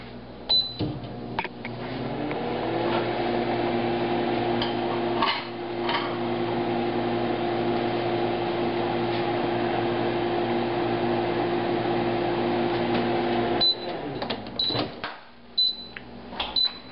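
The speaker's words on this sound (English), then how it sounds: "Put it in the microwave for about 15 seconds." A microwave oven hums steadily while heating crêpes for about fifteen seconds, a close even drone bracketed by clicks and door clunks, with several high electronic beeps near the end.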